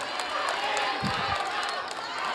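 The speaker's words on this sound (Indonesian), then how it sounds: "Sekarang boleh saya kasih waktu untuk berikan tepuk tangan bagi ketiga calon presiden" Audience applause for three Indonesian presidential candidates at a 2024 campaign forum on overseas migrant workers: dense, steady clapping fills the whole stretch at an even, fairly loud level, with a few low voices murmuring underneath.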